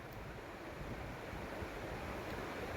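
Water surges out of a freshly started farm pump in a field, a steady broadband gushing hiss that stays even and fairly faint for the whole stretch, with no voices.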